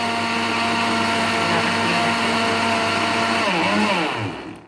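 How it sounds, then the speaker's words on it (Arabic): A blender grinding lentils whirs loudly and steadily, its motor pitch wavering as it grinds, then winds down and stops. "بنضرب العدس في الخلاط"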